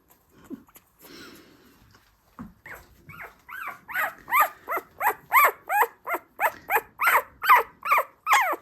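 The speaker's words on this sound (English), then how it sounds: "Very nice puppy." A two-week-old Miniature American Shepherd puppy gives a run of high, rhythmic whimpers and yelps that grow steadily louder and closer.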